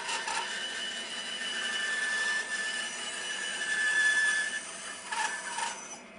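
A bandsaw cuts an angled piece of timber, a continuous whirring hiss close by that swells slightly mid-cut, with a faint high whine from the blade.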